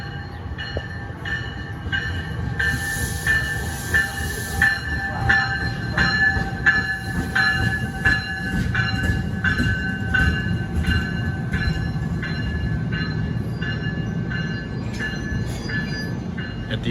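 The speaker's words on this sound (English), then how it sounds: "It is a newer dual power locomotive" A train with a newer dual power locomotive rolls past Princeton Junction at steady speed, wheels clacking rhythmically on the rails with a constant rumble and faint metallic squeal.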